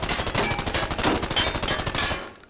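Rapid automatic gunfire from the video game Arena Breakout Infinite, a sustained burst of closely spaced loud shots that cuts off at the end, no talking.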